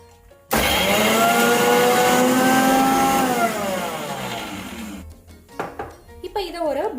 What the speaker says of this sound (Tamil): இப்போ நம்ம இதை ஒரு மிக்சியில் போட்டு அரைச்சி எடுத்துக்கலாம்.